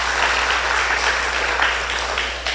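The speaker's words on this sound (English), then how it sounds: "Give Ms. Selina Balkisun a round of applause." A crowd applauds steadily and fairly loudly at a pre-budget consultation meeting in Tableland, the dense clapping continuing without a break.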